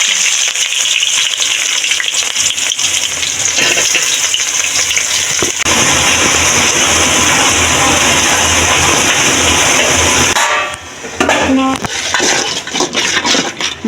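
Water hits a hot cooking pot full of spices, releasing a loud, steady hiss and gushing sizzle that holds for about ten seconds before dropping off, then gives way to lighter bubbling and stirring.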